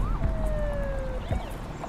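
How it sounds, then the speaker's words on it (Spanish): An ambulance siren wails in a steady rising and falling tone, fairly close, over a low rumble of street background. "Pues que pase la ambulancia entonces."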